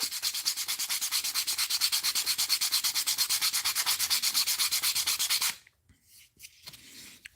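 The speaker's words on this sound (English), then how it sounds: "So it's basically all we're doing is sanding that ridge off." A ridge is being sanded off a handmade wooden musky crankbait lure. The strokes are fast, close and evenly rhythmic, a rasping back-and-forth scrub that stops partway through and leaves a few light handling sounds.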